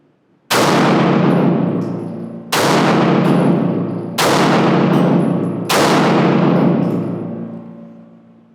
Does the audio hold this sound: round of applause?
no